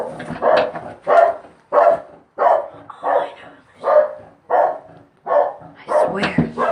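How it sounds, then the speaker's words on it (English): Dogs barking loudly and close in a steady series of about ten sharp barks spaced roughly half a second apart, with a few higher yelps near the end and no talk over them. "Told you they had dogs."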